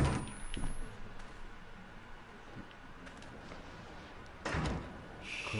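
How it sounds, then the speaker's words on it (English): In the horror video game Outlast 2, a door thuds shut with a couple of soft knocks, then a louder closing thump, over quiet ambient background. "Close the door. Be polite."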